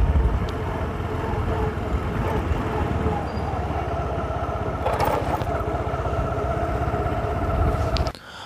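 A motorcycle rides along a main road, its engine a steady loud drone with strong wind buffeting the microphone throughout, continuous and close, cutting off sharply near the end.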